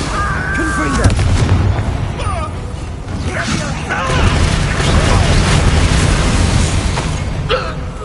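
Confringo blasting spells burst repeatedly in the Hogwarts Legacy video game, loud booming explosions layered over dense combat rumble, with a voice speaking between and over the blasts.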